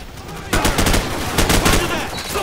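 Dense, close gunfire erupts in Call of Duty 4 amid a firefight near a tank, with overlapping rifle shots merging into a loud, continuous rattle that starts abruptly after a brief quieter moment and carries on throughout.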